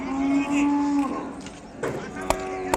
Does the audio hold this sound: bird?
no